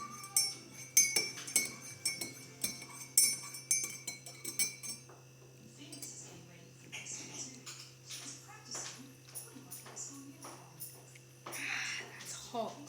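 A spoon clinks sharply against a cup several times while stirring, close but fairly quiet, with people talking over it and a low steady hum underneath.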